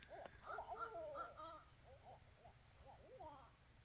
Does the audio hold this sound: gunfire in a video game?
no